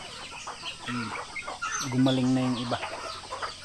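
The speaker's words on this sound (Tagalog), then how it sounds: "Ganun kaingay yung mga manok pag pinakain" Native chickens, some of them young and recently recovered from illness, cluck and squawk noisily in a loud cluster while being fed, with harmonic calls rising over a busy farmyard backdrop and a voice speaking briefly.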